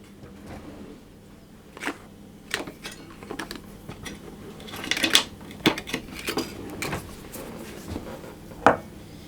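Golden syrup goes into a pan for Florentine lace cookies amid scattered clacks and knocks of utensils and cookware, close by and irregular, with no talking.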